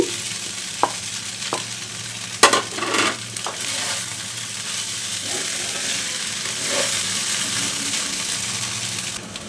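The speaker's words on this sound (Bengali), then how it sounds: "নেড়ে চেড়ে খুব সুন্দর করে ভাজতে হবে আর যে ভেজে রাখা সবজিগুলো আমি এখন দিয়ে দিচ্ছি" Winter vegetables being stir-fried for noodles sizzle loudly and steadily in a pan, with several sharp knocks and scrapes of a spatula against the metal early on, then a continuous frying hiss.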